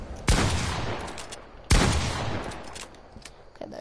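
Gunfire in a video game: two sharp, loud shots about a second and a half apart, each followed by a long echoing decay, with no talking.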